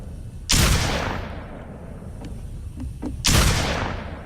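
Two loud, booming blasts from a waterpipe shotgun striking a stone wall in the game Rust, a few seconds apart, each trailing off, with faint clicks between them.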